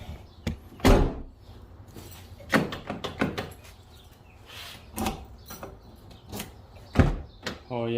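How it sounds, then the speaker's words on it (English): Door of a Mazda RX-7 FD closing and its lock cylinder working, heard as several sharp latch and lock clunks spread across the stretch, loud and close with quieter handling noises between them. "Let's close the door."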